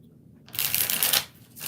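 A deck of tarot cards riffled in one quick burst of crisp, papery flutter lasting about half a second, close and fairly loud, with a softer flick at the end.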